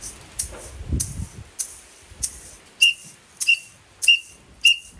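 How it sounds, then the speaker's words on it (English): A series of short, sharp, high-pitched samba whistle blasts at a samba drumming workshop, four in a regular rhythm near the end, preceded by softer clatter and faint background sounds. "So 4 whistles. We stop."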